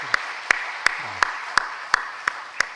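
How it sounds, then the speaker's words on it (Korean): Church congregation clapping in a steady unison rhythm, about eight crisp claps evenly spaced over a soft room hum, with no talking. "대표해서 우리 박수 한번 부탁드립니다."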